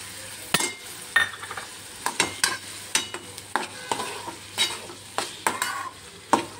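Tomatoes are stir-fried with roasted brinjal in a pan: repeated rhythmic spatula scrapes and clacks, roughly one or two per second, over a soft background sizzle.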